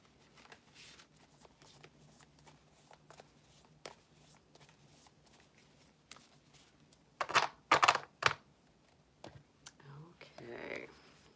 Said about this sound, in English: I'm going to knock these cards and shuffle them up again.